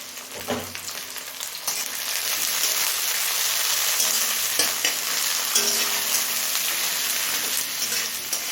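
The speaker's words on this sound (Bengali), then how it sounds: "এবার পেঁয়াজটা হালকা লাল হয়ে আসা পর্যন্ত ভেজে নেব" Chopped onions and green chillies fry in a pan for khichuri, a loud, close, continuous sizzle with scattered scraping and clinking from stirring.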